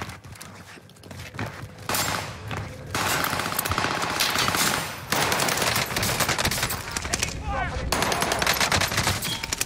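An MP40 submachine gun fires in Call of Duty Vanguard Warzone, with sustained rapid automatic bursts up close and busy game noise throughout.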